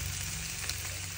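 An egg sizzles in a hot pan with bitter gourd, a steady close frying hiss with crackles and no pauses.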